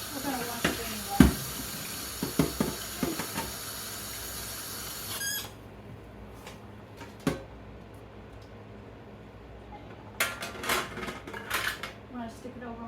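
A kitchen tap runs as a dish is rinsed, with splashing water and clattering of the dish against the sink for several seconds, then quieter handling and a final burst of running water and clinks.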